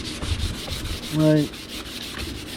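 Fingers or a sanding pad rub rhythmically along a hand-carved wooden wand, giving a steady, close scratchy swish with one brief tonal squeak midway; a single word is spoken.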